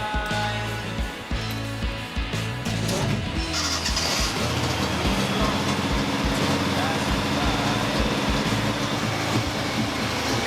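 A Datsun car engine idles with its choke engaged after a new radiator was fitted, giving a loud, steady, rough rumble with low chugging pulses that runs throughout, with no voices.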